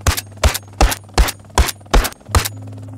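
Rifle fire in the video game Arma Reforger: seven sharp, loud shots at an even, quick rhythm over about three seconds, each with a short echoing tail, with no talking.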